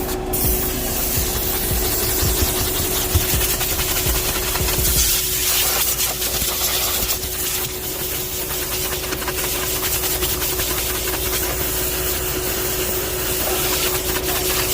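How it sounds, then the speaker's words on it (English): A loud, continuous hiss of air rushing and rasping as air extraction scrubs the carpet of a Nissan Sentra, with a constant tonal hum underneath and brief scrubbing bursts, close by and without voices. "this, my friends, is called scrubbing the carpet with the air. Air extraction."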